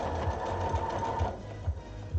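An overlock sewing machine stitches steadily up close, a fast rhythmic mechanical whirring with regular thumping pulses that keeps running for the whole moment.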